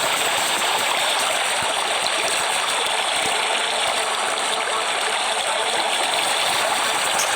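Water rushing in the FAU-G mobile game, a steady, dense, full-band stream like a gushing waterfall, running loud and unbroken from start to end with no speech.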